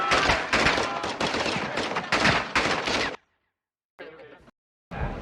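Rapid automatic gunfire in Call of Duty: Modern Warfare 2 during a campaign firefight with a cartel, loud dense bursts over about three seconds, then silence and two short separate bursts.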